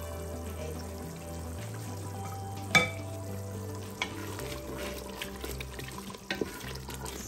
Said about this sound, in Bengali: আস্তে আস্তে কষানো হবে। মশলা কষানো হয়ে গেছে,